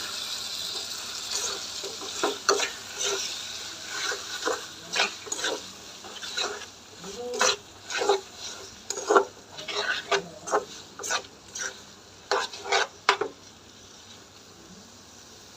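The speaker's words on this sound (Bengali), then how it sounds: "মশলাটা কষানো হলে মশলার কাঁচা গন্ধটা চলে যায়" A spice masala for bhuna brain curry is stirred and fried in a pan, with a series of irregular scraping strokes and soft sizzling, close and moderately loud, with no talk.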